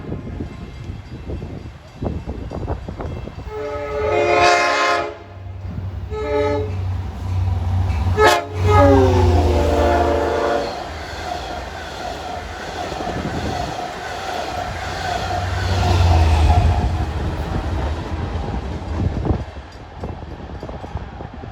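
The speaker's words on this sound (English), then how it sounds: "approaching at 4:52 is train 658 from New York to Port Jefferson" Diesel commuter train 658 from New York to Port Jefferson approaches New Hyde Park at rush hour, a growing rumble with rail clatter and repeated horn blasts, staying loud and close throughout.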